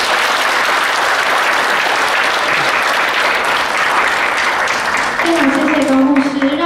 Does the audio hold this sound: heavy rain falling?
no